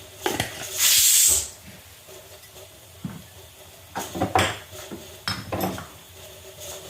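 Green peas sautéed with sambar powder in a pan: a burst of loud hissing sizzle near the start, then scattered scraping and clinking stirring strokes close by.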